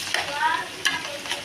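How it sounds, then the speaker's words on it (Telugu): Onions, green chillies and curry leaves fry in hot oil with a soft, continuous sizzle, broken by a few stirring scrapes close to the pan. "ఉల్లిపాయ మొత్తం చక్కగా పచ్చి వాసన పోయి నీట్గా వేగిపోవాలి"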